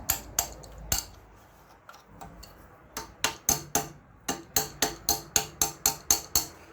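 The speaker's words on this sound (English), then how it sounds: "I'll just use the old adjustable hammer." An adjustable hammer taps at the carburetor of a seized Briggs and Stratton engine: sparse knocks at first, then a steady run of sharp, close metallic strikes about twice a second.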